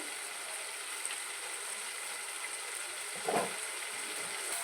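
Onions for biryani frying in a pan give a steady, soft hiss of sizzling, with one brief stirring scrape partway through and no voices.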